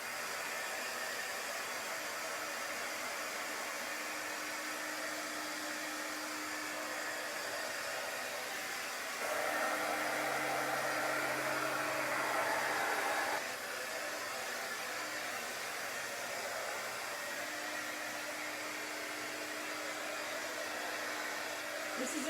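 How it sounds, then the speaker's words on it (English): A heat gun blows hot air over drying paint in a steady, close, broadband hiss, with a slightly louder stretch midway. "This is a heat gun."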